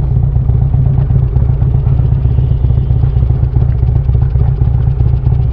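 A motorcycle being ridden and turned around in a U-turn, its engine a loud, steady low chugging rumble close by, with no talk over it.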